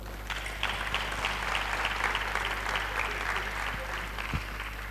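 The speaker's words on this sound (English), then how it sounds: "let's clap for all the women out there" A lecture audience claps together in support of women in engineering, a sustained, fairly loud patter of many hands over a steady low hum in the hall, with a couple of sharper thuds near the end.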